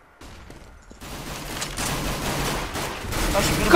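Rapid gunfire bursts from Counter-Strike: Global Offensive gameplay, loud and dense, building after a brief quiet start into sustained volleys with no talk over them.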